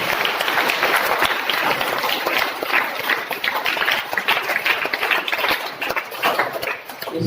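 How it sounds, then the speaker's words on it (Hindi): Loud, dense applause from a room full of students at a school activity, steady broadband clapping sustained for the whole stretch without speech over it. "तो इनके लिए एक बार जोरदार ताली"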